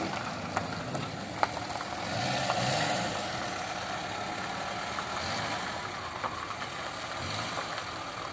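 A VAZ Zhiguli Kopeyka idles in a garage at a car market in Kerben with a steady, even engine hum. A few faint clicks sit over it and no one speaks.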